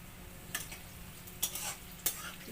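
Onion and potatoes frying in oil in a pan, a faint steady sizzle with a few brief clinks and scrapes of stirring, quiet and close, no speech.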